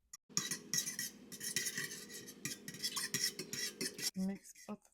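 Ingredients stirred together in a bowl with a utensil, giving a steady close scraping and clinking for several seconds, ending with a short pause and a brief knock.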